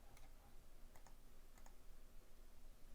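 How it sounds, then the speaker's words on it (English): Computer keyboard arrow keys tapped a few times in quick, faint clicks, close and isolated over a quiet room hiss. "You can use your arrow keys to kind of shove it around."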